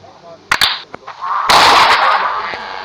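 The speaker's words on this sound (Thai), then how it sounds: "มันยิงได้จริงๆนะครับ" A homemade black-powder gun loaded with powder, cotton and a bullet fires with sharp loud cracks near the start, followed by a louder, longer blast that rumbles and fades over about a second.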